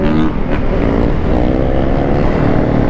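Yamaha Banshee ATVs race at full speed, a loud, close, continuous two-stroke engine roar with rising pitch and wind buffeting throughout the short stretch.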